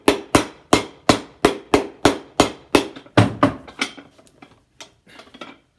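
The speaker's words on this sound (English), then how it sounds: "Press it down and hammer it in place." A hammer tapping a heel into place on a shoe at a shoe repair bench, about a dozen sharp, close knocks in an even rhythm that grow lighter and more scattered toward the end.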